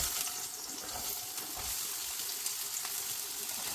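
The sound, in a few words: small onions (shallots) frying in hot oil in a pan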